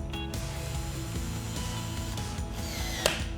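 A torque wrench clicks as coupling bolts are tightened to 80 inch-pounds on a Husky CR 7000 2-inch corrosion-resistant coupling. The steady ratcheting runs throughout and stays close, with a sharper click near the end.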